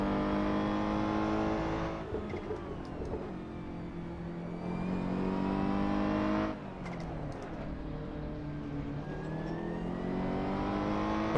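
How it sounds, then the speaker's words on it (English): A Ferrari GT3 race car engine in a racing video game drones loud and steady, its pitch climbing, dropping at each gear change, then climbing again. "a little bit of drift with the Ferrari is not a good idea. It's a GT3 car"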